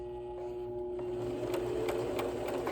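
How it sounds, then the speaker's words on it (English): A sewing machine stitches a fabric face mask, starting with a quieter, steady mechanical hum and then running louder and denser. Its fast, even needle chatter carries a few sharper clicks, heard close up with no voices. "lock our stitches in place by sewing forward about 3 stitches"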